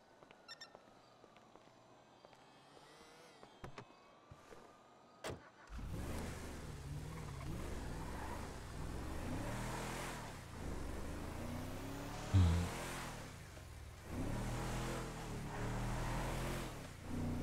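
Quiet ambience gives way to a car engine starting up and revving steadily, rising and falling as it drives in the video game GTA, with no talking.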